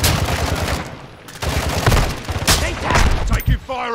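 Bursts of rapid automatic gunfire and single shots crackle close and loud in a Call of Duty match, dipping briefly before resuming heavily, with a voice speaking amid the shooting.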